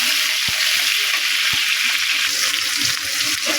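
Chopped tomato and green chilli sizzle hard in a pan of hot oil, a dense steady frying hiss with a couple of sharp pops near the start, loud and close with no talk.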